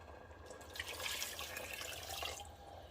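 Water pours steadily into a pot for cabbage soup for a few seconds, a soft continuous splashing with no talking.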